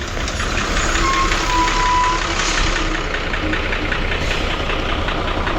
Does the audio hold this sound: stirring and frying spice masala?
no